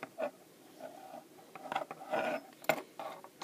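Knitting needles work stitches together on a small infant hat, giving soft, quiet clicks and rubbing scrapes in an uneven rhythm with no voice.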